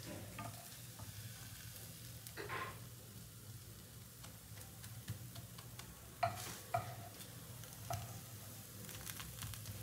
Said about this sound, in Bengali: আর একটু কড়া করে ভাজবো আমি পাটিসাপটাটা